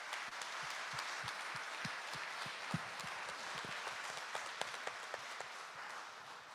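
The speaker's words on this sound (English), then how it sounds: "So can we have a round of applause for them," Audience applause at a business hall of fame awards ceremony, honoring investors and sponsors: steady, dense clapping from a sizable crowd that holds at an even level throughout, with a few sharper individual claps standing out near the front.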